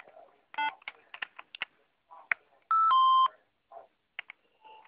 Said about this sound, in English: that little noise you just heard there means it received a packet